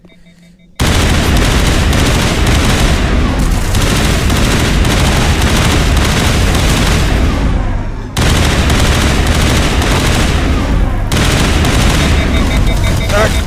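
Sustained rapid fire from a weapon in the video game Mass Effect, loud and continuous. It breaks off twice briefly, once near the start and again after a short pause, then resumes.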